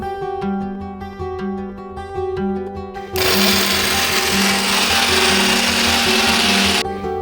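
A kitchen mixer grinder whirs loudly as it blends green chillies, sugar and coconut into a paste, kicking in abruptly after a stretch of steady low motor hum and running continuously at full roar.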